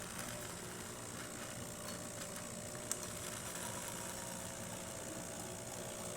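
Breville Barista Express espresso machine after a full tune-up, running its steam wand with a steady, continuous hiss and hum over low machine rumble, constant in level with one brief click midway.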